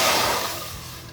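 Apple cider vinegar hits a preheated one-gallon saucepan with a loud, close hiss that fades over about a second, with no talk over it.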